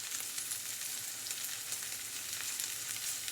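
Okra sizzling steadily in a hot pan for bhendi chutney, a continuous dense crackle and hiss that stays close and even throughout with no talking.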